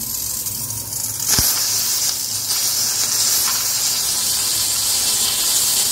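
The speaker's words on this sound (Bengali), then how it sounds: "আমার প্রেশার কুকার তো আর বলো না, এক এক সময় এক এক রকম, কোনো সময় ভালো সিটি পড়ে" A home pressure cooker, acting up and whistling unevenly, lets out a steady loud hiss of steam that runs the whole time with a sharp burst near the start.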